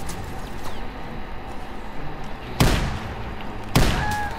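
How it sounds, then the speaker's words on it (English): Two sharp, loud grenade explosions in the World War II shooter Call of Duty WWII, about a second apart, each a crack followed by a rumbling decay over steady battle noise. "I throw all the grenades"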